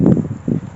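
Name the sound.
wind blowing outdoors in a cemetery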